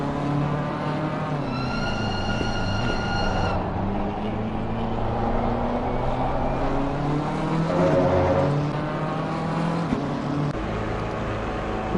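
BMW GT3 race car cornering in a sim racing esports event at the Barcelona Grand Prix circuit: a loud engine whine that shifts pitch through the corner as revs drop and climb, with other cars audible nearby.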